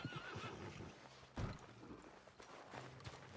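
A horse neighs in Red Dead Redemption 2, a quiet whinny mixed with soft hoof clip-clops, heard alone without talk.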